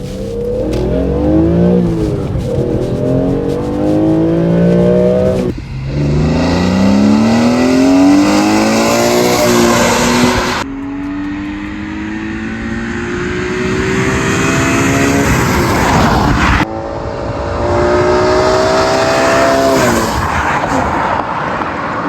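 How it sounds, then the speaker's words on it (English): A BMW E46 M3 fitted with an Eventuri intake revs hard through several rising sweeps, loud and close, with sharp drops between pulls and a steady high intake howl. "I was fortunate enough to drive an E46 M3 the other day with the Eventuri kit"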